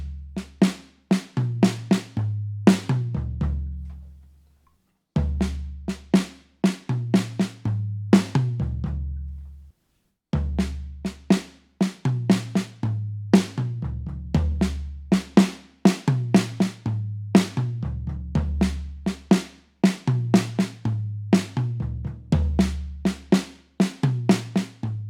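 Drums play a repeated fill pattern: sharp snare hit, high tom, then two deep, booming floor tom strikes, played slowly and clearly with brief pauses between passes.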